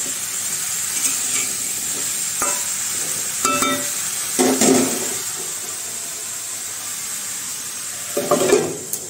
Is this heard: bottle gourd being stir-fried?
yes